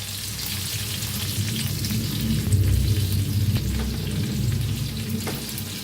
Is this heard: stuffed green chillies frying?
yes